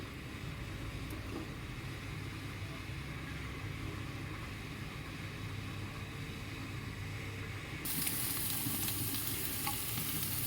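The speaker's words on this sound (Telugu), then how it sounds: "ఈ నెయ్యిలో ఇందాక మనం కట్ చేసి పెట్టుకున్న పన్నీర్ ముక్కలు వేసి ఫ్రై చేసుకుందాం." Paneer pieces frying in hot ghee in a pan give a steady, dense sizzle that runs the whole time, turning brighter and crisper near the end, with no talking.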